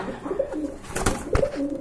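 Pigeons coo in repeated low throaty phrases, close by and fairly loud, with a couple of brief sharp knocks or handling noises between the calls.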